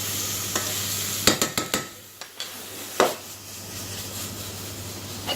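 Onions frying on a hot pan at medium heat with a steady sizzle, broken by a quick run of sharp scraping clicks as a utensil stirs and taps the pan, then a few more scrapes later.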